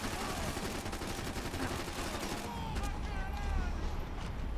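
Dense gunfire rattles continuously in the video game Max Payne 3, overlapping automatic bursts and shots forming a loud, unbroken barrage.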